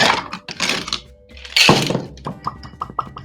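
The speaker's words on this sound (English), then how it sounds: "Grab some ice. We need lots of ice in here." Handfuls of ice tumble into a metal cocktail shaker for a lime cordial drink, a run of sharp clattering cracks and knocks with one louder crunching burst midway.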